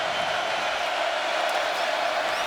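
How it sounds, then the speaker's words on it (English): Steady, loud crowd roar filling a stadium during a TCU vs Oklahoma college football game, a dense sustained wash of cheering with no distinct breaks. "Crowd's gotten back into it."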